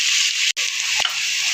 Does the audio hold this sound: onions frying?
yes